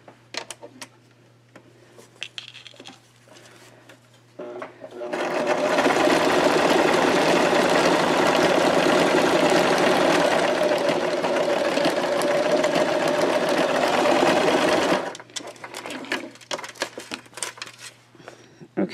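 An electric sewing machine stitches a fabric pocket in one steady, loud continuous run of about ten seconds, framed by quieter handling noises before and after.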